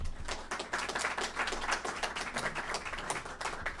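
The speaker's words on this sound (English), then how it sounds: "please give a warm applause for Bruce" An audience at a local gathering claps for a District 2 candidate as he is called up, a steady, moderately faint round of applause from many hands with no speech over it.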